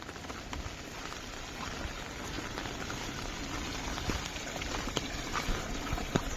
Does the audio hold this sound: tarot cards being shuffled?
no